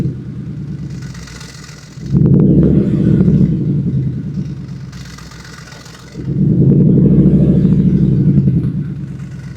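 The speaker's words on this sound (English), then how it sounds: "Give it a rev." A car engine fitted with newly installed exhaust resonators, not run for a while, idles with a low rumble, then is revved hard twice, each loud, throaty surge lasting a few seconds before dropping back to idle.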